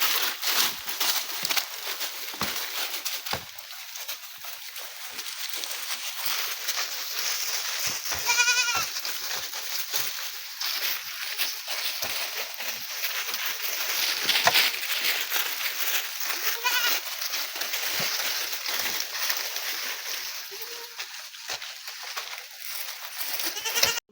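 Goats out at pasture with a herder bleat repeatedly, with several clear wavering calls over a steady rustle of grass and movement that continues for the whole stretch.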